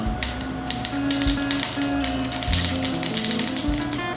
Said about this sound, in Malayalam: കടുക് പൊട്ടി തുടങ്ങുമ്പോൾ